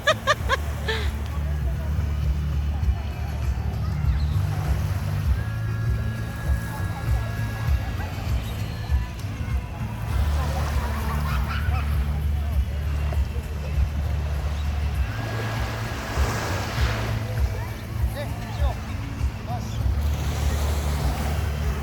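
Sea waves washing in at a beach in Singapore, a steady low surf rumble with wind buffeting the microphone, heard under nearby talking voices throughout.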